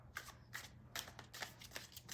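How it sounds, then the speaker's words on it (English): Hand-to-hand shuffling of a tarot deck printed on thick card stock, heard up close as a run of crisp, papery bursts that repeat in a quick, uneven rhythm with no voices. "Oh, and hand-to-hand shuffling."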